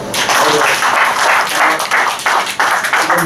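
Audience clapping at a church farewell fellowship gathering, a dense, steady wash of many hands filling the whole stretch with slight surges and dips, fairly loud and close, with no voices over it.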